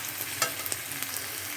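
Sliced potatoes and onions fry together in a pan, giving a short, steady sizzle with a few soft stirring scrapes and light crackles.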